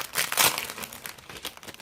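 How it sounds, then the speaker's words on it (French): Plastic sachets of scrapbooking stamps crinkle and rustle close up in quick, uneven bursts, loudest early on and then settling into softer crackles. "désolé pour le bruit des sachets"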